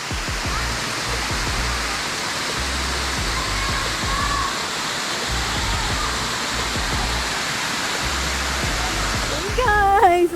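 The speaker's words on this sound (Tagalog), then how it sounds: "we're here in Agbalala Waterfalls, and look, it's so beautiful" A tall waterfall at Agbalala Falls in Mindoro roars as a steady, loud broadband wash of falling water, continuous throughout, with a brief voice rising near the end.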